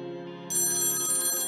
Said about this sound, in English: the Nokia phone that kidnappers left for me started ringing again